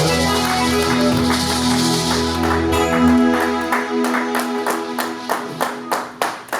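A church congregation is heard first through a sustained swell of singing and voices. Then the crowd breaks into steady rhythmic clapping that repeats in even beats for several seconds.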